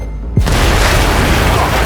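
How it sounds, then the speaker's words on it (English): Explosion in the video game Cyberpunk 2077 bursts in suddenly after a moment of background noise, a loud, dense boom that fills the remaining second and a half without fading. "Johnny took some damage from that explosion"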